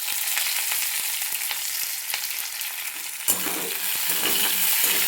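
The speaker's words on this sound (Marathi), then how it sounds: "असं तळतोय आणि ह्याला चांगलं असं तळून घ्यायचं." Curry leaves fry in hot oil in a pan with green chillies, giving a dense, steady sizzle and crackle close up, with a few scraping stirs of a spoon.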